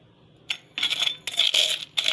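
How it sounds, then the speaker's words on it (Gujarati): Edible gum (gund) being crushed in a kitchen for sesame kachariyu, heard as several short, sharp crackling and clinking bursts in quick succession, close and fairly quiet, with no talk. "આ રીતે આપણે ગુંદને ભાંગી લઈશું।"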